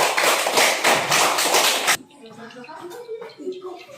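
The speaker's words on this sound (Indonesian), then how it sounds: "Tepuk tangan dulu untuk temannya." Schoolchildren in a classroom clap for a classmate in a dense burst of applause that cuts off abruptly halfway, followed by quiet shuffling and murmuring.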